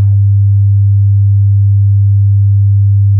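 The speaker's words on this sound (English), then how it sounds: "Let's begin by using sine tones to demonstrate isolated frequencies at 0 VU. 100 Hz." A pure 100 Hz sine calibration test tone at 0 VU hums as a loud, perfectly steady low note, unbroken and alone for the full length.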